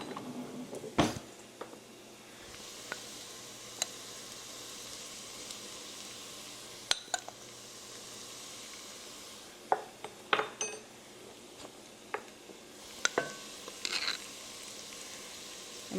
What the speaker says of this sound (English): So we're going to dry toast these.